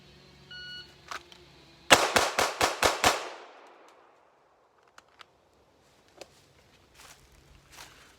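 A Walther PDP pistol fires six sharp gunshots in a fast, even string, loud and close with echoing decay, followed by quiet and a few faint clicks.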